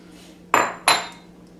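Frozen peach slices drop into a blender jar that already holds orange juice, giving two sharp, hard clinks about a third of a second apart over a faint background hum.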